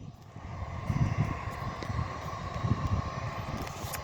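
A private jet takes off at a busy airport, its steady engine roar sustained and fairly loud throughout, with low rumbling pulses underneath and no talking.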